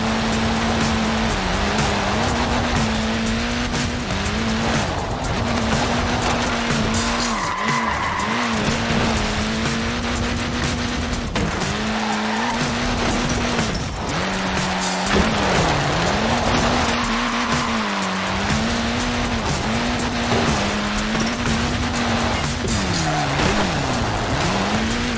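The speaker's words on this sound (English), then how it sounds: "It's really not an easy car to slide" A small front-wheel-drive Mini with tiny tyres and a short wheelbase sliding in Forza Horizon 4, its tyres squealing in long wavering bursts over a steady, buzzing engine note, loud and close with no talk.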